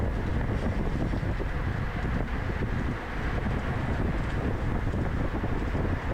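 Steady, heavy wind rush buffeting the microphone throughout, loud and continuous, while riding in a men's 35+ bicycle race at Branch Brook Park, drafting behind another cyclist.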